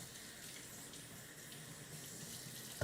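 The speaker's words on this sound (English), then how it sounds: "Let me rinse my hand." A kitchen tap runs steadily while hands are rinsed under it during cooking, a soft continuous stream of water with no talk.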